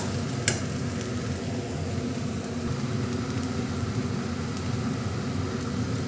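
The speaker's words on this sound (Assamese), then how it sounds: "আদা দিয়াৰ পিছত আকৌ কিছু সময় মই এনেকৈ ভাজিম" A steady, dense sizzle of ginger frying in a pan, constant and close throughout with no talk.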